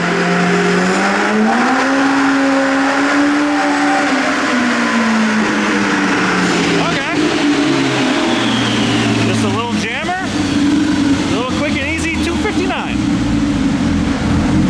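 Ibexx Turbo Pro R roaring on a dyno during a full power run, engine note climbing then dropping and surging again with rattling bursts, loud and close, with voices over it.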